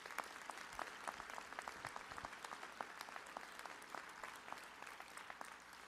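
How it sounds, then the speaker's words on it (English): Quiet audience applause at a university honorary doctorate ceremony, a steady patter of many hands clapping in a large room, heard at a distance and soft throughout. "So let's give them a round of applause for that accomplishment."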